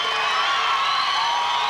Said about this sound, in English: the smaller Loyola contingent on its feet behind us and cheering